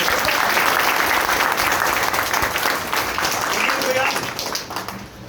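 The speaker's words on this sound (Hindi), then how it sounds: "जोरदार ताली एक बजा" Loud, dense applause from a large seminar audience fills the room with continuous clapping, fading a little near the end, with voices faintly underneath.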